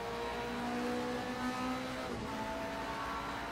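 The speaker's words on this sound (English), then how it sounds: "Nice sound. It's got that, like, evil electric hydraulic whine." A car with an evil-sounding electric hydraulic whine, a steady high-pitched tonal drone over a continuous engine note that shifts slightly in pitch midway, loud and close with no talking.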